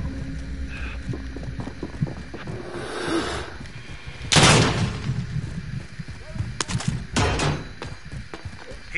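Gunfire in GTA 5 Online: a few sharp, loud shots scattered through the clip over busy game noise, with talk in between.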